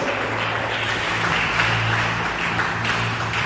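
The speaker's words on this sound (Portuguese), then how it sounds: "As palmas bem alegre exalta o nosso Deus" A church congregation clapping steadily and joyfully, a dense continuous wash of hands with a low hum underneath and no clear speech.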